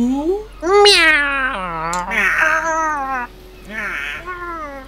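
A person's voice imitates a cat, giving a drawn-out wavering meow followed by a couple of shorter mewing cries, loud and close.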